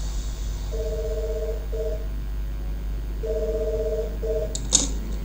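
Telephone dialing tones sound in two steady bursts, each pair of tones repeating as a number is entered, a single short click near the end, with no voice and only a faint background hum throughout.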